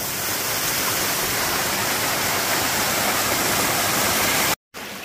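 Small waterfall in a quartz-lined creek, a loud, steady broadband rush of falling water close by that fills the whole clip without a break until a brief cut near the end.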